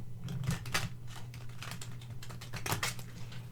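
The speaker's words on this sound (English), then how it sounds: "perhaps you're one who enjoys shuffling from the side," Tarot cards shuffled from the side by hand, a steady run of soft rapid clicking and flicking as clumps of cards slide together, close and alone.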